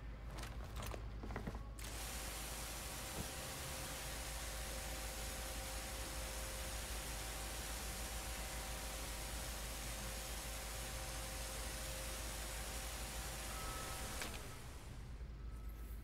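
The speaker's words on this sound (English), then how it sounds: "Okay, pressure washer time." A pressure washer sprays in a steady, loud hissing blast with a constant mechanical hum underneath, starting abruptly after a brief clatter and cutting off near the end.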